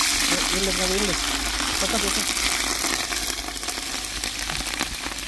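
Cinnamon, cloves and green chillies fry in half a litre of oil in a large village cooking pot, a loud steady hiss and sizzle running throughout while people talk over it.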